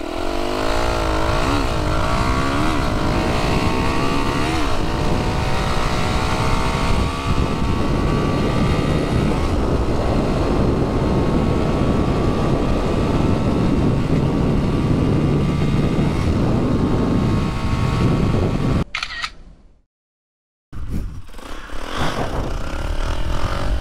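A TTX200 motorcycle roars loudly and continuously as it accelerates from 0 to 100 km/h, its engine pitch climbing through the gears before a brief cutout and return.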